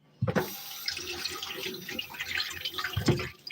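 Tap water running over something being rinsed while a pan heats on a stove during burger preparation, a close splashing rush with a couple of sharp bumps at the start and end.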